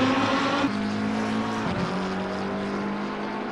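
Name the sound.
Lamborghini Super Trofeo race cars in a racing video game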